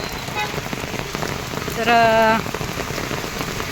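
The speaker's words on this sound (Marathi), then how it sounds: "बघा इकडे पाऊस." Heavy monsoon rain pouring down in a town in Khed taluka, Ratnagiri, a dense continuous hiss of drops on surfaces, with a brief tonal sound like a horn in the middle and a faint voice.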